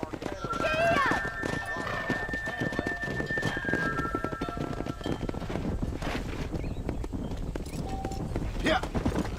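A horse gallops in the Western video game Red Dead Redemption, with rhythmic hoofbeats and a brief whinny under a voice shouting and wind-like rushing noise.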